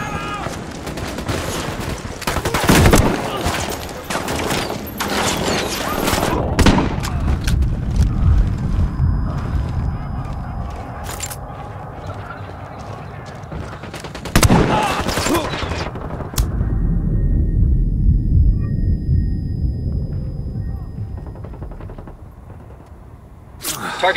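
Sniper shots and bursts of gunfire from Ghost Recon Wildlands ring out in a loud firefight, sharp reports and rattling volleys scattered over a steady background, with voices speaking between the shots.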